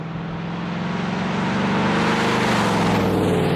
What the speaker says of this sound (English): just listen to the exhaust echo from the trees in the forest